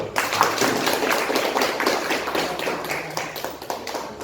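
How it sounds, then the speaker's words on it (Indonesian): A classroom audience applauds a student group after their presentation, with brisk, close scattered claps forming a lively patter throughout. "Oke, aplaus untuk kelompok 1"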